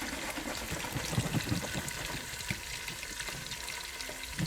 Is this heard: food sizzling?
yes